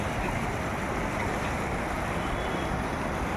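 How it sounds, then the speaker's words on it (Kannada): Fast-flowing river water at the Triveni Sangam confluence in Prayagraj during an early-morning holy bathing gathering, a steady broadband rush with no breaks, moderately loud and continuous throughout, with no voices. "ನೀರಿನ ರಭಸ ಕೂಡ ತುಂಬ ಫಾಸ್ಟಾಗಿದೆ, ರಭಸವಾಗಿ ಹೋಗ್ತಾ ಇದೆ"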